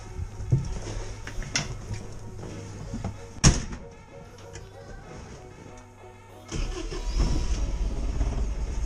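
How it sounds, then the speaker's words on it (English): Pinzgauer military vehicle with a gear reduction starter, where a sharp click of the ignition key comes first, then the starter cranks and the engine catches and settles into a steady, close idle. "Starts just like a regular car."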